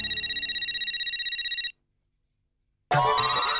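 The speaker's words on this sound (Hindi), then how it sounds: "उसी के लिए तो मैंने फोन किया है भिड़े भाई" A telephone ringtone trills in a steady repeating electronic pattern, loud and close, then cuts out for a moment of silence before ringing again.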